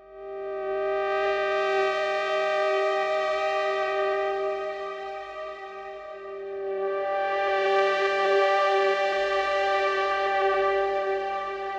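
A rich, buzzy synthesizer tone from the LABS Obsolete Machines instrument holds steady and swells twice, with reverb giving it a wide, lingering sound. No voices are present.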